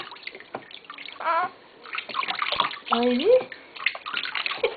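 Water splashes and pours as a newborn gets his first bath at home, with sloshing bursts and trickles close by, mixed with someone talking and a baby's short whimpering cry.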